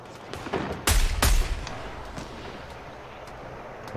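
Automatic sniper rifle firing in Fortnite: two loud, sharp shots in quick succession, with a few fainter reports and a lingering echo afterwards.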